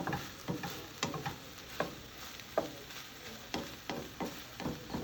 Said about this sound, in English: Now we can let that simmer for at least another minute.